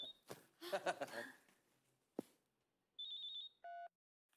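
A person talks briefly, then a phone rings with two short electronic tone bursts, bright and close, after a brief pause.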